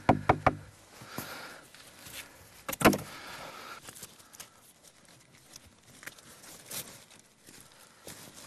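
Hammer blows drive nails into the boards of a wooden box meant to stand outdoors in deep snow: a quick cluster of sharp, close knocks at the start, then one more strike, with quiet rustling between.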